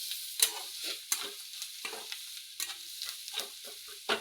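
Egg bhurji with onion and masala fries in a pan and is stirred, heard as a steady close sizzle broken by repeated scraping spatula strokes in an irregular rhythm, with no talking.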